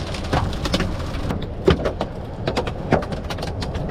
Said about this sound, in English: Good lord, it's the size of this hail,